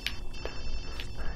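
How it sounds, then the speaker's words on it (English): A telephone rings in the video game Watch Dogs 2, with short repeated ringing bursts over a steady low background hum and no voices. "Hey, you should probably get the phone."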